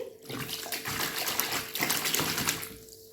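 Warm bath water splashes and runs around a seven-month-old baby sitting in a tub, a close, steady wash of water with irregular sloshes, no clear speech.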